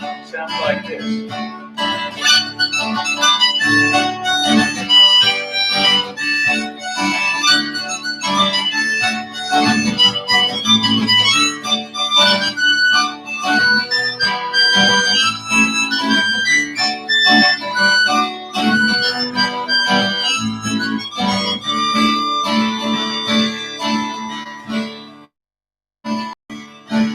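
A fiddle plays St. Anne's Reel at a live maritime festival aboard a tall ship at Dana Point, a busy, steady tune with dense melodic runs running for most of the stretch before dropping away near the end.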